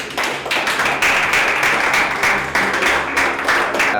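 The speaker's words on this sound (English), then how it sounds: "Give him a round of applause." Loud, close applause from an audience after a performance, with individual claps standing out in quick, uneven bursts over a few seconds and little talk.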